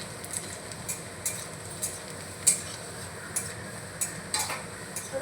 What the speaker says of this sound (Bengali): রসুনটাকে আমি হালকা ভেজে নেব।